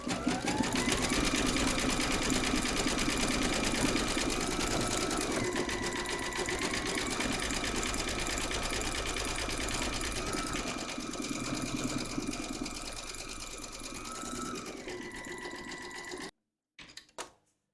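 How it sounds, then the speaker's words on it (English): An embroidery sewing machine stitches in bright green thread, a fast continuous mechanical whir and rapid needle clatter that shifts speed in steps, steady and close, then cuts off near the end. "Load your thread colour for the word happy into your machine, and then stitch round number 4,"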